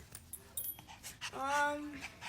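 Several dogs pant and whimper briefly amid household movement and faint background voices, with a short whine rising near the end.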